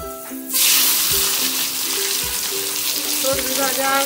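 Vegetables hit a hot pan and burst into a loud, close sizzle that holds steady, with a few dull clinks of utensils and some tonal kitchen noise beneath.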